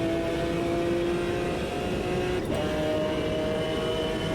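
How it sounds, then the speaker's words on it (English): A GT1 race car in the Automobilista 2 racing game gives a steady, high engine wail that holds loud and constant throughout, with a brief shift in pitch partway through and no talking over it. "there's something about the wail of this engine"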